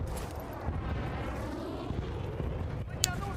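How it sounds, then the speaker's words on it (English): Mortar strikes called in during Battlefield Bad Company gameplay: a continuous rumble of distant impacts and blasts with a sharper crack near the end, mixed under game noise. "you can just call in as many mortars as you want"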